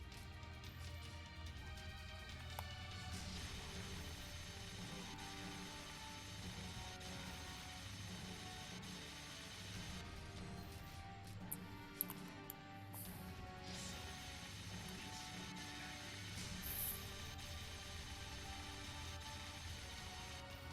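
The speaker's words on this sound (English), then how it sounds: "How long does it take to take down the chopper?" In the Bullet Witch video game, a helicopter's rotor drones steadily and faintly for about twenty seconds, with occasional mechanical clicks and rattles on top.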